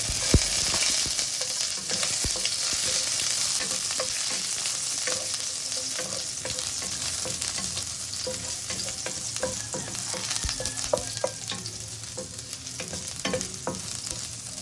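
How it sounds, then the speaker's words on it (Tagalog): Garlic sizzles and fries in a hot pan as the first step of cooking sinigang na bangus sa miso, a steady close crackle with occasional stirring scrapes and no talking. "Igigisa muna natin ang bawang."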